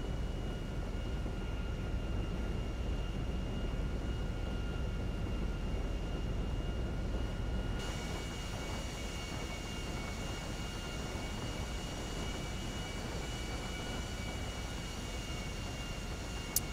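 A jet airliner rolls down the runway for takeoff in the GTA 5 video game, its steady broadband engine roar holding constant and loud throughout, with faint high whining tones over the rumble.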